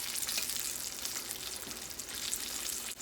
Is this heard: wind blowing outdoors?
no